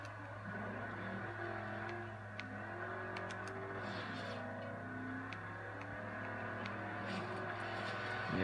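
A Jeep's engine drones steadily from the cockpit view while driving in the racing video game Forza Horizon. It sounds fairly quiet and even, with no speech.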